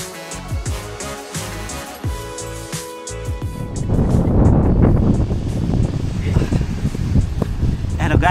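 Strong wind buffets outdoors at Wanaka, New Zealand, in cold, rainy weather, a rough low roar that swells and stays loud while people talk over it.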